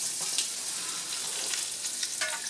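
Garlic sizzling in olive oil in a pan, a soft, steady crackling hiss with small popping bursts throughout, faint and close, no voices.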